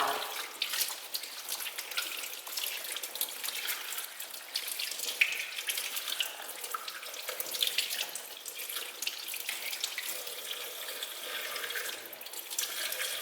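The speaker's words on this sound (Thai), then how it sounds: "เปิดน้ำล้างตะหลิวด้วยน้ำเปล่า" Water runs from a kitchen tap over a spatula being rinsed at the sink, a steady close splash and patter with small irregular drips. No one speaks.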